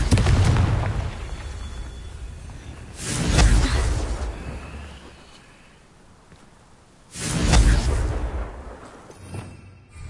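Two heavy blasts from the Confringo spell in Hogwarts Legacy, each a booming whoosh that swells and rolls away. Several seconds of quieter ambience separate the blasts, and a rumbling background runs underneath.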